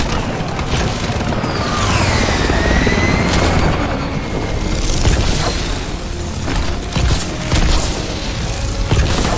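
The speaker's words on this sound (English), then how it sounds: "Pilot's chopper's inbound." A military helicopter in the Call of Duty Advanced Warfare campaign thunders loudly with steady rotor chop, mixed with game combat booms and mechanical clatter, all close and continuous.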